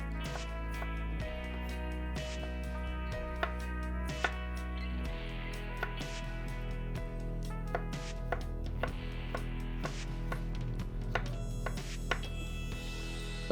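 A Victorinox 6-inch chef knife chopping sweet peppers on a cutting board, with sharp irregular taps scattered through the stretch over steady background music, and no speech.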